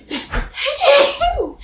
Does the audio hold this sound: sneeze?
yes